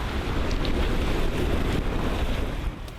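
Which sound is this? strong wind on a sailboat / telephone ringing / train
strong wind on a sailboat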